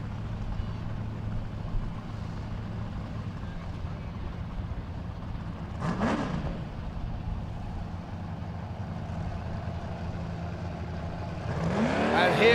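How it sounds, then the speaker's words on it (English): Big-block off-road race car at the 2019 King of the Hammers qualifying, a steady heavy engine rumble with a rising rev surge near the middle and louder acceleration at the end, under faint crowd or commentary noise. "You cannot hide that big block power when it takes off the line."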